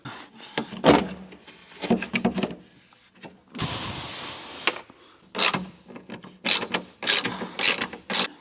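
A ratchet tightens bolts on an abandoned Evo 8 under restoration, heard up close as several separate bursts of rapid clicking with quiet gaps between them, and a short hiss-like rush in the middle; no one speaks.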